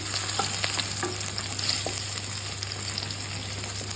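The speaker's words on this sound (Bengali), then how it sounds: "রসুনটা একটু ভাজা করে নেব" Garlic sizzling and crackling in hot oil, close up, with a steady hiss and scattered pops.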